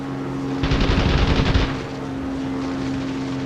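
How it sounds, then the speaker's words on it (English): Machine-gun fire from a Stuka's rear-facing guns in Wings of Prey air combat against a Spitfire: one loud, rapid burst lasting about a second over a steady aircraft engine drone. "Stuka's had these rear-facing machine guns that you can see. We're taking a few hits from them."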